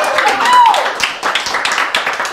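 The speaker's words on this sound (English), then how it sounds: "How about a round of applause for Will Neff?" Audience applause with scattered clapping and some cheering right after a comedian's set, steady and fairly loud throughout, with voices mixed in.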